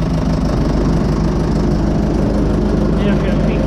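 A Fordson Major diesel tractor engine idles with the PTO running, giving a steady, loud, close low rumble and mechanical churn with no break in the sound.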